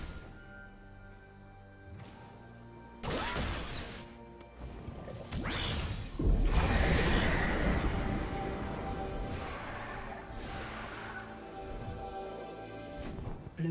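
A turret crumbling under attack in League of Legends, loud crashing and thudding impacts with whooshes building into a sustained smash, no talking.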